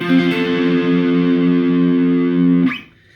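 A heavily distorted electric guitar rings out a sustained major IV chord from the Dorian mode, holding steady and loud for nearly three seconds before cutting off abruptly.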